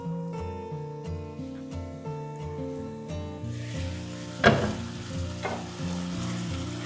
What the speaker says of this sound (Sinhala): මේක හොඳට ටෙම්පරාදු කරගන්න ඕනේ